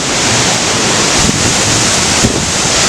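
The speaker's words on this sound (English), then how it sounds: "This is the tallest waterfall in Tasmania" Tasmania's tallest waterfall roars in a steady, loud, broadband wash close by, with gusts of wind buffeting the microphone and no voices over it.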